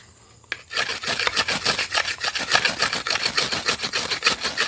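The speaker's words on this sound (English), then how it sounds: "I take the 90-degree spine on my knife and I just rub this thing down" Steel knife spine scraped steadily along a ferrocerium rod to wear off corrosion, a close, dry rasping in quick repeated strokes with a regular back-and-forth rhythm, no talking.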